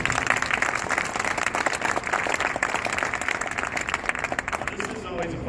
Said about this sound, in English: So I would love to give him another round of applause